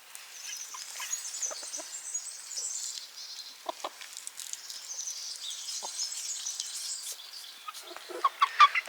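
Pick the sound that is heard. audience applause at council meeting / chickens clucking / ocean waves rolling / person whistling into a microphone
chickens clucking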